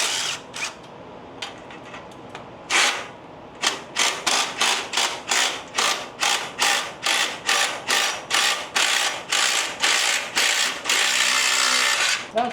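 Ratchet wrench loosening a rusty exhaust stud on a Harley Davidson M8, a few scattered clicks followed by a loud, regular run of ratcheting bursts in quick rhythmic strokes, close up and with no talk.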